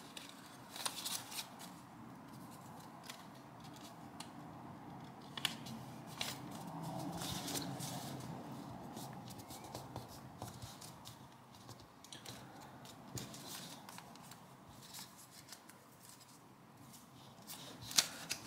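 Origami paper is folded by hand into a pig, giving soft crinkles, rustles and occasional sharper creasing snaps, faint and close with a low background hum.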